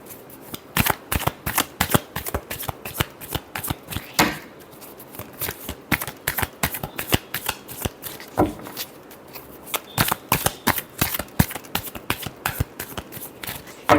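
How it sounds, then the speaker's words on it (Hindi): Tarot cards shuffled by hand, a steady run of crisp riffling flicks and slaps repeating close up over several seconds, with short breaks between rounds and no talk. "last shuffle"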